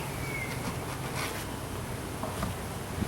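Bees buzz around an open beehive during an inspection, a steady dense hum filling the air from close by, with faint handling noises and no talk.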